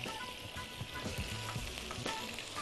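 Butter, two stock cubes and oil sizzle together in a frying pan, a close, steady frying hiss with low bubbling and faint clinks underneath, no one speaking.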